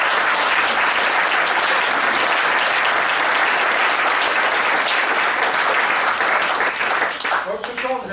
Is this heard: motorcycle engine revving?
no